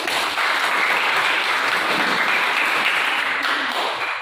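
A classroom of students gives steady, dense applause after a group presentation, loud and close, clapping sustained for the whole stretch before tapering slightly at the end.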